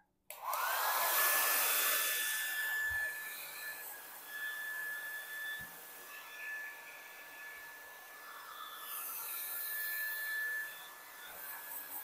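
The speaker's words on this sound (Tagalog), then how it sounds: "Then using a hair blower." A hair dryer blows steadily and close by with a high whine, sealing a plastic pickle jar, running without a break for several seconds while its airflow dips slightly, then rises again.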